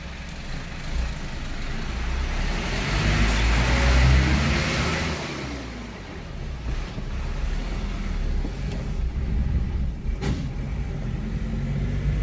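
Engine of a VW MK5 GTI after a timing belt failure, a loud continuous low rumble and drone with rising and falling intensity and some rattling, no speech.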